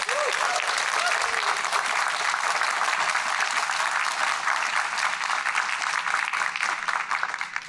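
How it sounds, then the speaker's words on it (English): Sustained applause from a large audience at a Latino poetry event, honoring a group of artists, writers and thinkers; dense, steady clapping fills the whole stretch at full loudness. "could we have a round of applause again for"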